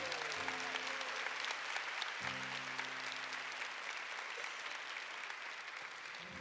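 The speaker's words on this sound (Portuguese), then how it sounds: "E aplauda o nome de Jesus." A church congregation at a Catholic service claps steadily and fairly evenly over sustained keyboard chords, the applause heard moderately loud throughout without any talking.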